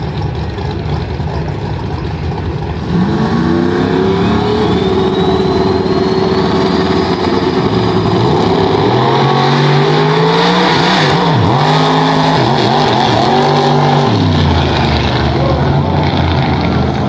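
Drag race cars launching down a no-prep strip, loud engines revving with rising and falling pitch sweeps as they accelerate away, a continuous heavy roar over crowd noise.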